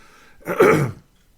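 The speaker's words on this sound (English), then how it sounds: "Clearing my throat a little too much here." A single short, rasping throat clearing, close and fairly loud, lasting about half a second against near silence.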